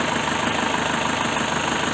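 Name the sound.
Isuzu Panther 2001 diesel engine running, rough and noisy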